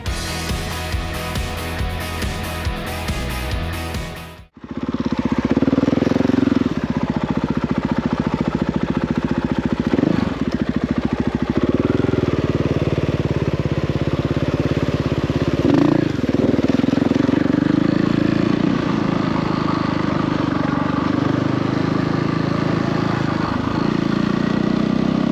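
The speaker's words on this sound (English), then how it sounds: "Come out on the bike today." A KTM 500 dirt bike's single-cylinder engine runs steadily and loudly close by after an abrupt start, with small rises and dips in throttle, on a ride out in Cape York, with no talking.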